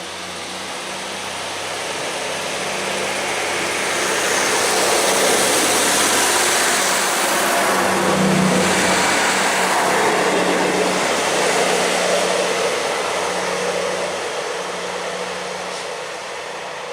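Diesel multiple unit train 158734 departing South Gyle station on the Fife Circle line, a loud, broad engine roar and rumble swelling to a peak and slowly fading, with no talking.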